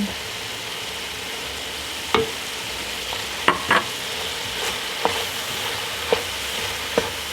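Flour and bouillon are stirred into drained browned meat in a pan, under a steady sizzle and hiss, with a handful of spoon scrapes and knocks at irregular intervals.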